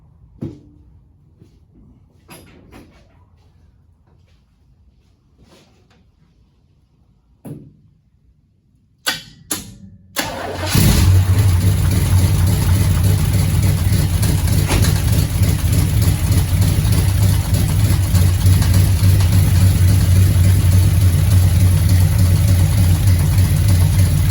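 A few clicks and cranking bursts, then the old engine of a 1972 GMC pickup truck catches and settles into a loud, steady rumbling idle that continues to the end; the alternator belt is loose.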